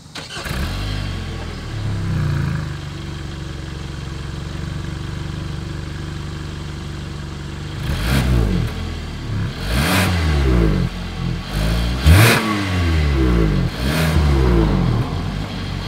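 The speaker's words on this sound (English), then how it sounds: "As always, here is that exhaust clip." A 2021 Hyundai Tucson SUV starts and idles steadily, then its exhaust rises and falls through several sharp revs, close and loud, with no talking.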